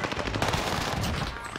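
Rapid automatic gunfire in a Call of Duty Warzone Rebirth quads match, a dense close burst of shots lasting under two seconds with no talking.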